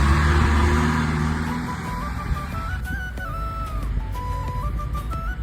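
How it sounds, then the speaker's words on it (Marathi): A vegetable vendors' tempo, a small goods vehicle, drives past on a Konkan village road, its low engine rumble loudest at first and then fading, with birdsong whistling above it. "आमच्याकडे जे भाजीवाले येतात त्यांचं टेम्पो."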